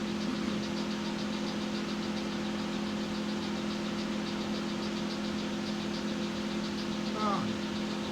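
A centre lathe spins a worn soft-faced mallet at about 1000 rpm, giving a constant steady hum with a low tonal drone and faint rhythmic ticking throughout.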